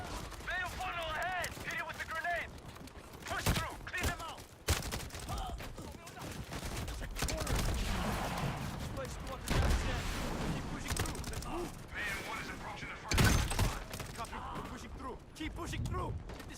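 Gunfire in GTA Online, bursts of shots scattered among game noise and a talking voice, with several loud cracks standing out near the middle and end.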